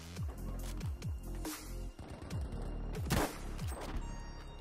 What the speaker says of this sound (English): There's guys shooting up here.